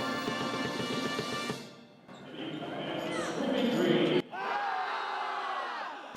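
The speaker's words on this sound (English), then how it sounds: "you can always count on hearing the sounds from the Screamin' Green" The Screamin' Green student section at a basketball game, a loud, sustained mass of screaming and yelling voices that fades briefly, then surges back even louder with whoops.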